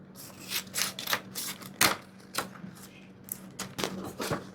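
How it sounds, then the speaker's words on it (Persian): Scissors trimming excess paper from a bodice sewing pattern with a dart transfer: a series of sharp, close snips and crisp rustles in an irregular rhythm, with a low hum in the background. "بعد قیچی میکنم اضافات رو"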